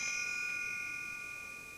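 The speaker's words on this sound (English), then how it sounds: "I hit it with this rod and the metal triangle vibrates," A metal triangle struck once with a metal rod rings out in a bright, sustained shimmering tone that slowly fades, heard alone and close.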